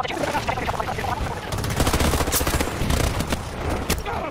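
Rapid automatic gunfire in the shooter video game Battlefield 2042 rattles out in dense continuous bursts with sharp impacts throughout.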